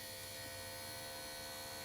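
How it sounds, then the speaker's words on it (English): A small drainage pump with a float switch runs with a steady, faint electric hum and buzz. Nothing else is heard. "I've tested the little pumps with their little rotating float switch."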